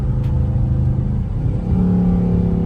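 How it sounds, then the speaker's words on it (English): A Charger R/T 345 engine drones, dips briefly as it downshifts into third, then climbs in pitch as it revs, heard close inside the car over steady bumpy-road rumble. "When it get to 3, I'm finna downshift."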